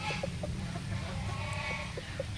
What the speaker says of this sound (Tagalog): medyo maingay yung gansa namin